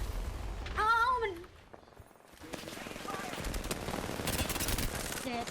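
Rapid bursts of video game machine gun fire from an R-99 rattle on continuously, with a voice briefly calling out beforehand.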